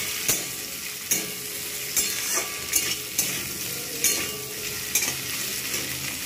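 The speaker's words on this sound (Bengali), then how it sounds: "আমি একটু ভালো করে আলুগুলোকে ভেজে নেবো" Potatoes sizzle steadily in a hot pan for a Bengali rohu fish curry, broken by a series of sharp scraping stirs roughly every second, close and clear with no talking.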